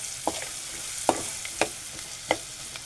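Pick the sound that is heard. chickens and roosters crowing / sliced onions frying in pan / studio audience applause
sliced onions frying in pan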